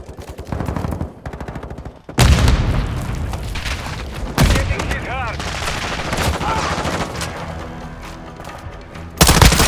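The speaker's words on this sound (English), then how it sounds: "Tossing grenade!" A grenade blast in Call of Duty: Modern Warfare II lands amid heavy gunfire, a loud booming burst that erupts abruptly and mixes with rapid shots and sharp impacts throughout.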